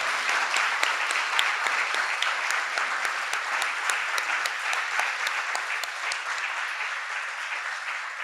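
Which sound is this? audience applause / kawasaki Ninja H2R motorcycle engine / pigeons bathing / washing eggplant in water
audience applause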